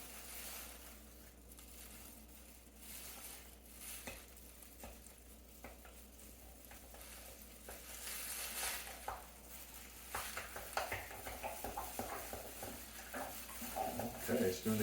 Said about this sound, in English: I want to be careful stirring this up.